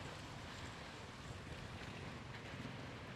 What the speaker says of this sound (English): it's super windy at the moment